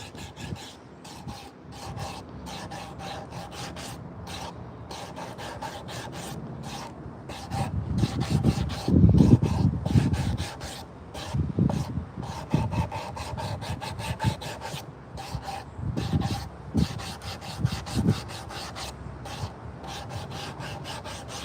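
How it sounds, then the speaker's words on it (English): Steady rhythmic rasping of a 60-grit sanding block worked by hand across a carved wooden spoon, close and dry, growing louder in the middle strokes with no talk. "the sanding we do by hand using a sanding block"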